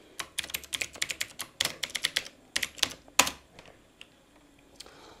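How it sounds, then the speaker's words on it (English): Keys clack in quick bursts on a computer keyboard as a root login and password are typed at a server's login screen, followed by a few sparse, isolated keystrokes, close and clear with no talking. "We'll type in the login user, that's root, and the root password."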